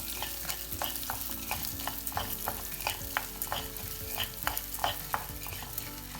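Coriander seeds and chana dal roast over medium flame in a pan, a steady dry sizzle punctuated by regular scraping strokes of a spoon stirring through the grains.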